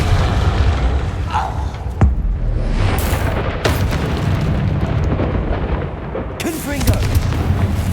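Confringo fire-spell blasts in the Hogwarts Legacy video game land as loud booming bursts over a constant heavy rumble, with several sharp hits spread across the stretch and brief voice-like sounds mixed in.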